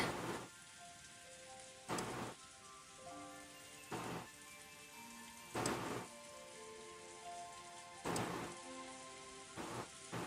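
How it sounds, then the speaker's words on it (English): In the video game Umineko, steady rain patters under a faint musical backdrop while bursts of thunder crash roughly every two seconds, loud and sharp against the quiet hiss. "I wonder when the storm will be over."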